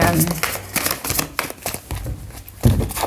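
Rapid papery riffling and flicking of a card deck being shuffled, close up, in several quick bursts.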